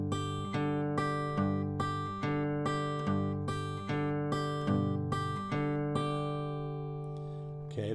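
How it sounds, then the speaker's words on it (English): Acoustic guitar playing a steady fingerstyle blues pattern, high first-string notes picked in between regular low bass notes, clear and close with no talking. "I'm going to play in between each bass note the first string"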